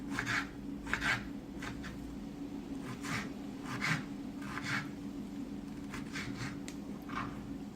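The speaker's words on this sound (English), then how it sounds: "You just chop them up just like that." Tomatoes being chopped with a knife on a cutting board, a series of soft, irregular thuds and slicing taps in small bursts, close and fairly quiet.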